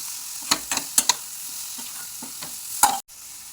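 Soaked soybeans with masala, salt and coriander are stirred in a pan over a low, steady sizzle, with several sharp spatula clinks against the metal in uneven bursts and a sudden cut near the end.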